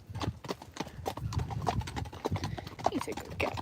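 Friesian horses walk on a hard surface, their hooves clip-clopping in a steady, close, irregular rhythm while people talk quietly nearby.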